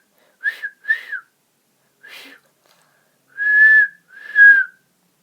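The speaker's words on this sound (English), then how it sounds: "James whistled happily." A storybook narration holds a steam engine whistle from a Thomas and Friends tale, given as five clear tonal toots in uneven bursts, the last two longer and louder, against silence.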